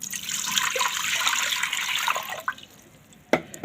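Water pours steadily into a cooking pot for a Ramadan sesame-and-honey pastry preparation, a continuous hissing splash lasting about two and a half seconds before tapering off, followed by a brief clink near the end.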